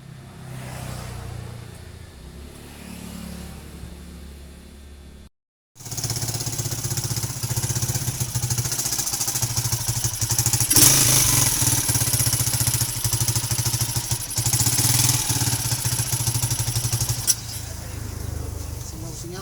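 A repaired motorcycle engine, destined for a sidecar, runs steadily at idle for most of the clip after a brief cutout, a loud continuous drone with some background voices.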